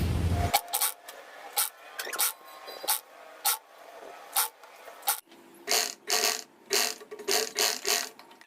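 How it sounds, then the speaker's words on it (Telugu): Needle and thread being pulled through an old knitted sweater while hand-stitching it into a mixer-grinder cover, about a dozen short rasping pulls in an uneven rhythm, close and clear with no talking. "ఇప్పుడు దీనికి ఇలా అటాచ్ చేస్తూ చుట్టూ కుట్టేసుకొచ్చేది"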